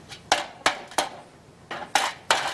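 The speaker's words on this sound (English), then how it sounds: "Once the slag's set, I tip it out, tap the slag off" Metal tool tapping set slag off a freshly cast gold bar in the bush, six sharp clinking knocks at irregular intervals, each ringing briefly and decaying, close and fairly loud.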